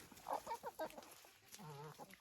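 Chickens eating beet and carrot tops give soft, scattered clucks and a drawn-out wavering call, faint and close, with no talking.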